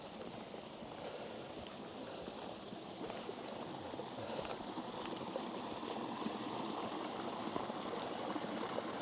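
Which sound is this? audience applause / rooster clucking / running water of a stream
running water of a stream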